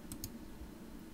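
Two quick, faint clicks of a computer mouse land in rapid succession over a quiet room hum, with no one speaking.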